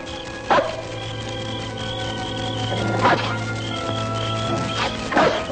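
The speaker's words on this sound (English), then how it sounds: "The dog's bringing him to us." A dog barks in the outdoors, giving a few separate sharp barks spaced a couple of seconds apart, fairly close and loud over a steady low hum.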